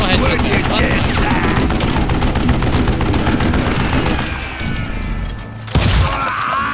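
Rapid, loud gunfire rattles almost without pause during a shootout in the Western video game Call of Juarez: Gunslinger, briefly easing before a sharp final blast, with a voice talking over the shots.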